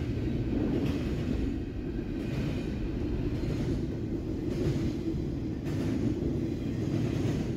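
A high-priority morning intermodal freight train rolls past on a main line, a steady low rumble of wheels and wagons with slight swells in loudness and no voices.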